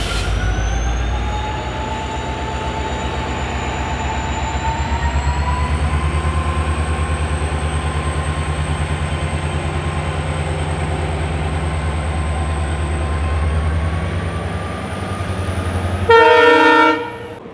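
Humsafar Express passenger train rolling past Sadar Bazar station toward New Delhi: a steady close rumble of wheels on track with a high whine, ending in a brief loud rhythmic clatter.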